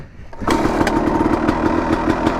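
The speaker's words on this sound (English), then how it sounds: "Look at that, first kick." A dirt bike engine catches on the first kick and settles into a steady, loud running idle with a slightly raised idle, close by and with no talking over it.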